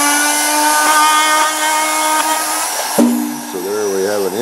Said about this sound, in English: we can drill our entry hole in here